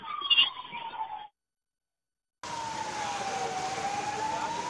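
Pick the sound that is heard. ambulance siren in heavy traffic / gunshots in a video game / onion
ambulance siren in heavy traffic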